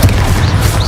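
Confringo blasting spell in Hogwarts Legacy, a short punchy boom with a fiery crackle and a whooshing tail, loud and close amid the game's combat noise.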